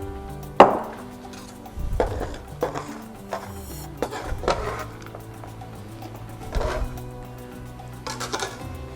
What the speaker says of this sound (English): I'm going to finish chopping this entire block, this wonderful slab of Callebaut milk chocolate